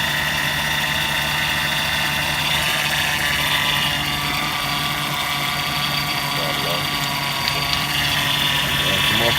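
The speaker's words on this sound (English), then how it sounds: "that's the power steering pump. That's the bearing trying to send the fluid through the system." A car engine idles with a steady low rumble while its power steering pump gives off a constant, high tonal whine layered on top.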